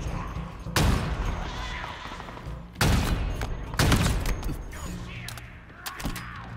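Enemy gunfire in Gears of War, several loud bursts of shots about a second apart with sharp impacts and mechanical clatter between them, near and heavy, with brief quieter gaps.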